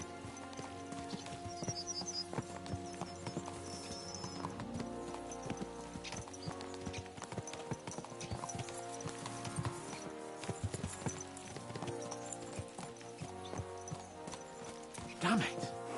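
In Kingdom Come Deliverance 2, horses' hooves clip-clop steadily throughout under a voice speaking, with a dense backdrop of game sound.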